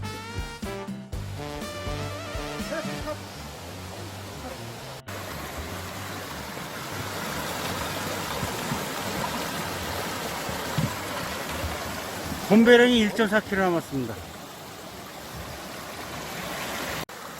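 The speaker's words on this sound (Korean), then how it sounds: "물 내려가는 소리가 싱그럽지요." A mountain stream swollen by rain rushes down beside a forest hiking trail to Gombaeryeong on Jeombongsan, a steady close broadband wash of flowing water throughout, with someone speaking briefly at the start.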